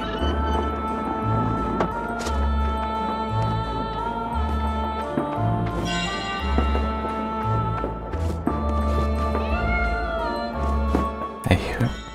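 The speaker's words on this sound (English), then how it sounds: "A cat." A cat meows in the Trine 4 fantasy puzzle-platformer, a short call rising over steady, fairly loud game music and ambient effects.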